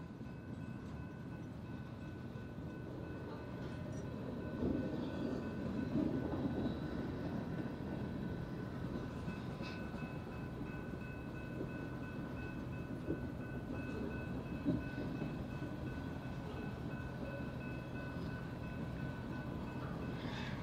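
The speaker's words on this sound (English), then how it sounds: "Caught behind the train, y'all." A steady low rumble of a train rolling past, continuous and fairly close, heard from a motorcycle stopped at a crossing, with faint tonal hums above and no talking.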